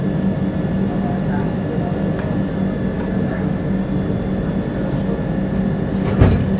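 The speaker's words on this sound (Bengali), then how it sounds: "এই যে ট্রেন কিন্তু ছাড়লো আমাদের" The Mithila Express pulls out of platform 1 at Raxaul Junction, a steady, close railway rumble that holds evenly throughout, with a single sharper clunk near the end.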